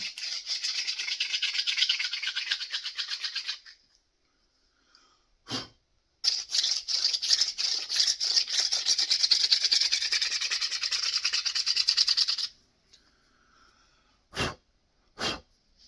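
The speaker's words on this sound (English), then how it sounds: "To drill a hole in the stone" A primitive pump drill with a stone-tool-made bit drills into stone: a steady rasping, grinding scrape runs for several seconds, pauses, then resumes longer, with a few sharp knocks in between; close and fairly loud.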